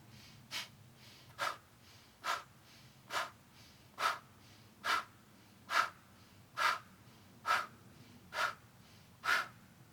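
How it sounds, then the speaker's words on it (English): Eleven sharp, forceful qigong fire-breathing breaths pulse in a steady rhythm, each a quick hissing exhale close to the listener, with no talking. "right into 10 rounds of fire breathing"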